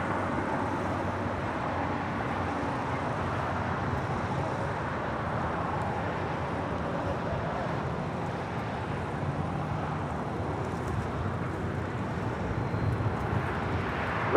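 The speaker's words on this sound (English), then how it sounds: "Next departure, Delta Airlines Flight 494, heading to Detroit, Michigan in an A321" A Delta Airlines A321 departs LAX for Detroit as a steady broadband roar of jet engines swells slightly toward the end, heard from a distance at the airport with no voices over it.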